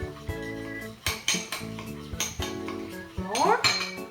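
Baking ingredients and sugar are mixed in a bowl: irregular clinks and scrapes of a utensil against the bowl, close and fairly quiet, with a faint voice underneath.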